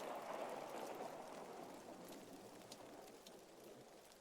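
Steady rain falling in a Ben 10 Alienverse fan game cutscene, a constant soft hiss of drops on surfaces that fades slightly over a few seconds, with no voices.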